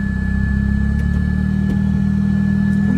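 A Carver One three-wheeler's small engine hums steadily at close range, a constant low drone with a faint high whine and no clear rise in revs over the few seconds.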